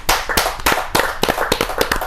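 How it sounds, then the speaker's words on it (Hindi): An audience at a Hindi kavi sammelan poetry gathering claps in a burst of applause, sharp overlapping hand claps coming in uneven clusters, fairly loud and close, with no voices over them. "आचार्य प्रवर को जोरदार ताली के साथ"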